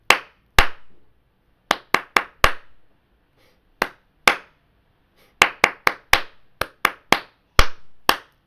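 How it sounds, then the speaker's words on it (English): Sharp, crisp hand claps ring out alone in a quiet room, spaced in an uneven beat pattern with short gaps and quick clusters, each clap close and distinct. "We'll go ahead and clap out the rhythm."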